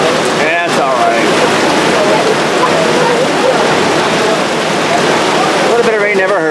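Rain falls steadily at Fort Matanzas National Monument in St Augustine, Florida, a dense close hiss of drops hitting surfaces, loud and continuous, with people talking over it.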